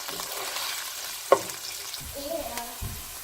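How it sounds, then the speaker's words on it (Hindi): Onions sizzling and frying in a pan for a Hindi home-style aloo baingan sabzi, a steady close hiss with a brief stir clatter partway through. "1 मिनट तक हमने ये प्याज जो थे हल्के से फ्राई किए।"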